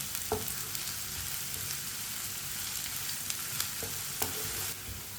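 Onions frying in a pan and stirred with a spoon until brown, a soft steady sizzle with occasional sharp clinks and scrapes of the spoon.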